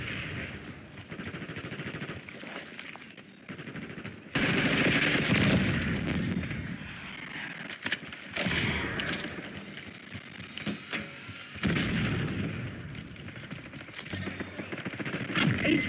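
Bursts of automatic gunfire in Call of Duty: Black Ops 6 multiplayer, sharp crackling volleys coming in waves with louder stretches and brief lulls, mixed with engine-like rumble and match noise.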